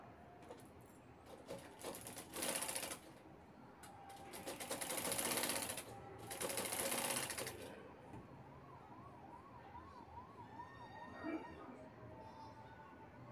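A sewing machine stitches piping onto a homemade bag in three quiet bursts of rapid whirring rattle, each a second or two long, with small handling clicks between them.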